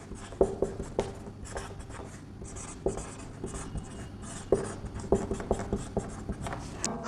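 A pen writes notes on paper, giving steady, close scratching with small taps and strokes that run continuously without speech.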